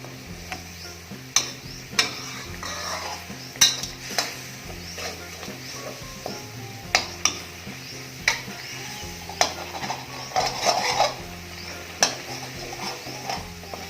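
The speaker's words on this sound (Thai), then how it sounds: "ใส่หัวกะทิลงไปนะครับ ให้แตกมันเลยเพื่อแกงกับกะทิให้แตกมันนะครับ" Thick coconut cream fries and is stirred in a pot for a Thai pineapple pork curry: a steady soft sizzle with regular close scrapes and taps of a spoon against the pot.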